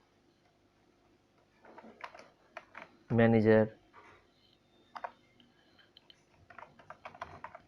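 A letter typed on a computer keyboard in MS Word, with scattered soft key taps and clicks at an uneven pace, plus a brief louder burst, under a speaking voice.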